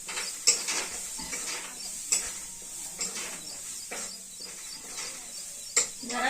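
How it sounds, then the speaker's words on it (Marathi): Green chillies fry in hot oil in a home kitchen, giving a steady close sizzle broken by sharp crackling pops every second or so, with light stirring and no talk. "मिरची चांगली भाजली तडतडत"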